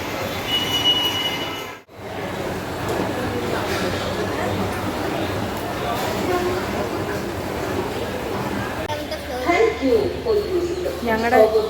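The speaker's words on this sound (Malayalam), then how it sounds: "ഇവിടെ റെയിൽവേ സ്റ്റേഷൻ എത്തിയതാ" A train rumbles at a railway station platform in Thiruvananthapuram, a continuous rolling drone with squealing wheels and clanks growing busier toward the end, while people talk and birds chirp nearby.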